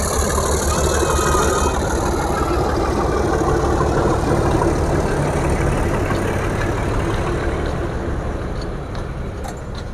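A Mehr Express train engine idles at Golra railway station, a steady, loud, unbroken rumble with a constant low drone that holds throughout and eases slightly near the end, with no voices.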